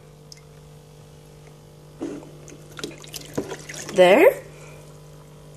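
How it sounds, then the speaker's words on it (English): Water from an old aquarium pours into a new betta fish tank in a short gurgling burst near the end, after a stretch of faint handling noises and a brief spoken word. "you take some water from the old aquarium"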